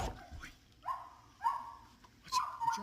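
Excited dog giving a few short high whimpers and yips in separate bursts, close by, with faint background noise between them.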